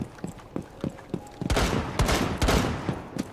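Rainbow Six Siege gunfire: scattered single shots at first, then a dense, loud burst of rapid firing, close and harsh.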